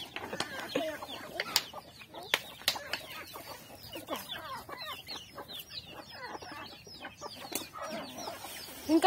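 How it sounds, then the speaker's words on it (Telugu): Chickens cluck and squawk in bursts as grain is scattered for them, with sharp calls, scattered wing flaps and a fairly close, busy flock. "అన్ని కోళ్ళు ఉరికొస్తున్నాయి వీళ్ళు డబ్బా పట్టుకోగానే."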